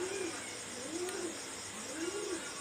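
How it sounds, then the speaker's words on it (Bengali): Soft, rising-and-falling coos from a small Pakistani high flyer pigeon come in three rounded phrases, close by, over constant high-pitched insect hiss. "এটা হলো খুবই ছোট সাইজের একটা কবুতর"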